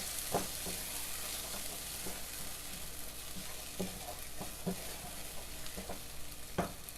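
Ghee sizzling in a frying pan while egg biryani is cooked, a steady soft frying hiss with occasional sharp clinks of stirring, fairly faint and with no talk.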